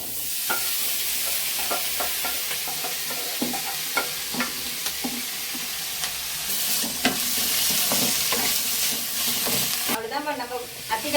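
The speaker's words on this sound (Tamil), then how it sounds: "நல்லா வதங்கிச்சு வெங்காயம் பூண்டு கருவேப்பிலை எல்லாம்" Onion, garlic and curry leaves sautéing in a pan, a continuous sizzle broken by repeated scraping and clinking of a stirring spoon, heard close with faint voices now and then.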